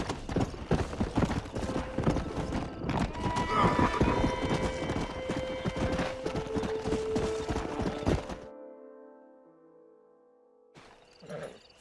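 Horse hooves clip-clop in a rapid, dense run in a Western video game, followed by a whinny from a wild stallion, loud and close, with the galloping cutting off abruptly.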